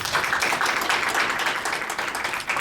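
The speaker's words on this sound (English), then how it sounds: "Can we give him a clap, please?" An audience at a digital literacy trust launch event claps, a dense, continuous patter of many hands close by with no voices over it.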